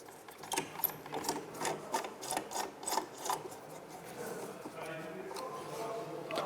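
A module being screwed into a Robe Forte moving-head light during maintenance: a run of short, rhythmic scraping and ratcheting turns, close and moderately quiet, settling into a steadier mechanical hiss.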